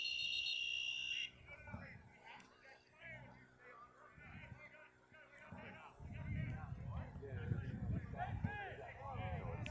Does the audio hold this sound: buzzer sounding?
yes